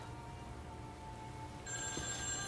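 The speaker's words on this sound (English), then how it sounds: "All right, Russell, go answer the phone" A telephone bell rings indoors, its bright tones starting partway through over a quiet background with faint music, with no one speaking.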